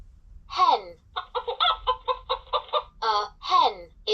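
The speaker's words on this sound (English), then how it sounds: "A hen is a female chicken." A hen clucks in a short burst of repeated squawky calls from a LeapFrog toy dictionary, loud and close, with a brief pause in the middle before the calls resume.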